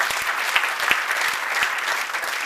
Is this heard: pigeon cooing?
no